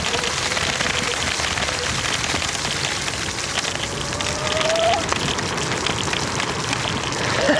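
A modded Green ESA5000 electric scooter built from scrap spins its wheels in mud, making a continuous gritty, spattering noise with a brief rising motor whine partway through.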